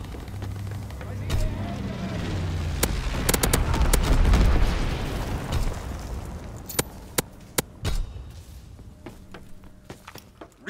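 Incendiary bomber strike in Call of Duty WW2, a low rumbling barrage of explosions that swells toward the middle and fades, followed by several sharp separate cracks and booms near the end.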